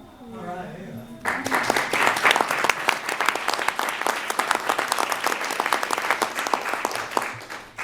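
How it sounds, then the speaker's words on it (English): A room full of people at a presidential commission meeting on drug addiction breaks into sustained applause, dense and steady clapping that follows a short stretch of speech and continues to the end. "I too applaud you, Eli,"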